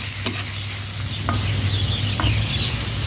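Pork and curry paste stir-frying in a hot pan, a loud, continuous close sizzle broken by quick spatula scrapes and taps.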